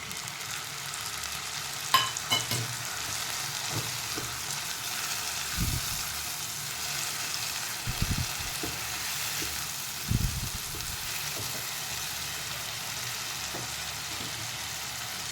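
Tomatoes go into onions frying in a pan, giving a steady sizzle with a few soft thumps and scrapes as the mixture is stirred.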